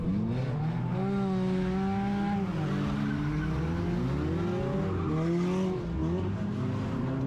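Race cars on an oval track at a race meeting, several engines droning and revving together with rising and falling pitch, close and loud, with tyre noise running throughout.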